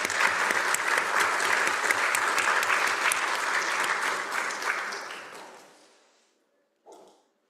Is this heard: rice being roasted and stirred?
no